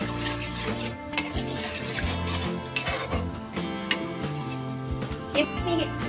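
Salt being stirred into a paneer masala in a pan, with intermittent spoon scrapes and clinks against the pan under a steady bed of background music.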